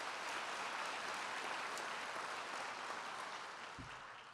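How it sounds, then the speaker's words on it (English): Audience at a city State of the City address applauding, a dense, even sheet of clapping that carries throughout and fades slightly toward the end, with no speech over it. "Let's give her a round of applause as well"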